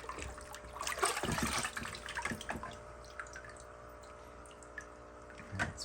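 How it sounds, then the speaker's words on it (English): Water from a five-gallon bucket splashes and trickles over aquarium canister filter parts during a tank cleaning, with irregular pours, drips and bursts in the first half, a quieter stretch, then another short splash at the end. "since I have 5 gallons of water here, might as well rinse everything off all at once."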